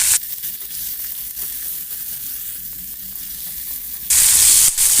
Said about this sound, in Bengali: এবার আমি মশলাটাকে হালকা নাড়াচাড়া করে নেব